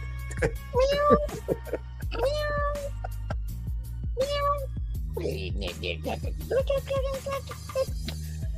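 A pet cat meows several times in a row, clear and fairly close, with drawn-out calls alternating with short gaps and a low background hum.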